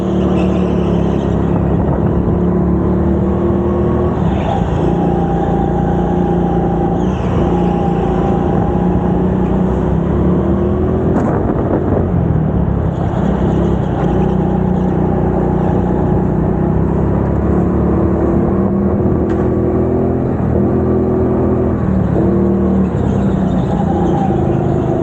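Go-karts run on the indoor track at Teamsport Bristol during a BIKC locals race session, giving a steady, loud engine drone with continuous rumbling and whirring throughout and no voices.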